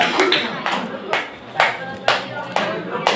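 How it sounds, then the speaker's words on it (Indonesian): At an organisation meeting, an audience claps in a few sharp, separate bursts spaced about half a second apart, fairly close and moderately loud. "Tepuk tangan untuk Kak Rima Surya."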